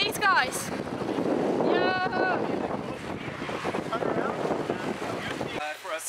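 Heavy wind buffets the microphone during a blustery road bike recovery ride, roaring and gusting close up. A voice talks through part of it.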